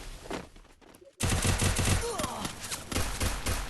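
Gunfire in the Free Fire clash squad game, a burst of rapid shots that breaks off for a moment and then returns as loud, sustained fusillade with overlapping weapons and an occasional voice underneath.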